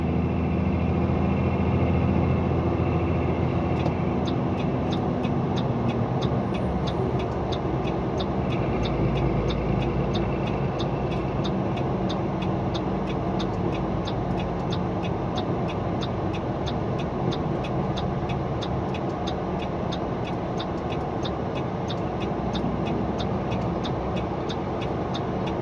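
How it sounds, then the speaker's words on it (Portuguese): Loaded trucks roll along a road through a construction stretch, a continuous engine drone and tyre rumble with a faint repeating ticking, steady and fairly loud for the whole span with no talk. "Muitos caminhão carregado aí."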